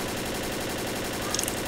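Rapid automatic gunfire from the video game Left 4 Dead fires as a dense, even burst of shots, loud and close, for under two seconds.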